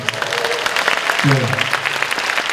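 Seminar audience applauds warmly, a steady wash of many hands clapping throughout, with a voice speaking briefly over it.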